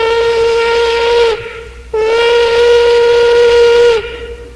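A voice mimics the whistle of an old steam locomotive, performed by a performer in 1963. Two long, loud, mournful blasts sound alone, with a short pause between them.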